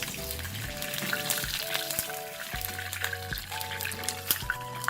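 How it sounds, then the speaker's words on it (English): Adai, a rice and mixed-dal dosa, fries steadily on a pan over a low flame, giving a continuous crackling sizzle with faint scraping touches throughout. "Fry the adai on a low or low-medium flame"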